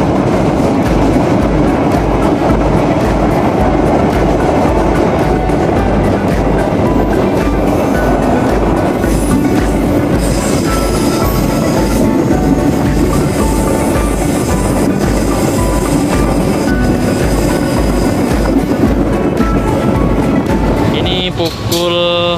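A passenger train rumbles steadily along the rails near tunnels between Jember and Banyuwangi, Indonesia, with a rhythmic low clatter, loud and continuous throughout, with a brief higher rattle near the end.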